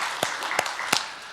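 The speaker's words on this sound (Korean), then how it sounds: "우리 감사와 위로의 박수를 하겠습니다." Church congregation claps in thanks during a Sunday worship service, a brief spell of scattered applause with a few sharp claps standing out.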